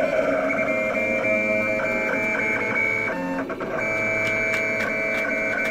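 A vinyl cutter slicing a Spider-Man black suit stencil, giving loud, close whining motor tones that shift pitch in steps as the head moves, with brief pauses and clicks, no talk.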